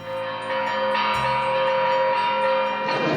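Church bells rung by a bell ringer produce loud, sustained tones with layered ringing overtones. A fresh, deeper strike joins about a third of the way in, and the sound carries on without any voices.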